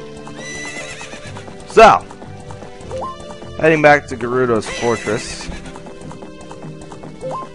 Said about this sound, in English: I got up on the horse.